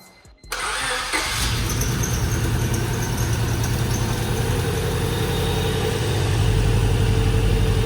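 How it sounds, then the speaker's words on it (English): A Honda car engine, just fitted with new injectors, cranks briefly and catches, then settles into a steady loud idle with a faint squeal, close by and with no talking. "Okay, go ahead and crank her up."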